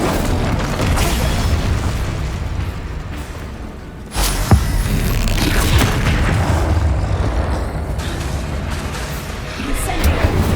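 Explosive spells blast one after another in Hogwarts Legacy combat, with a loud sharp boom midway among continuous crackling, rumbling effects, while a voice calls out spell names throughout.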